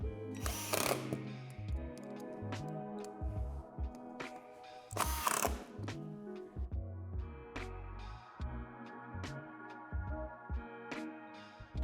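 A power drill drives screws into plastic shed floor panels, whirring in short runs of varying pitch with a few sharp louder bursts, close and clear, no one speaking.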